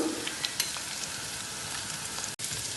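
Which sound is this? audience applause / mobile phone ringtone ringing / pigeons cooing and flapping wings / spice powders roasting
spice powders roasting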